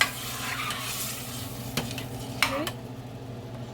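Fresh tomato sizzles in a pan for a spaghetti sauce while a utensil stirs and scrapes, a soft steady frying hiss broken by a few sharp clinks and scrapes; a voice says a brief word.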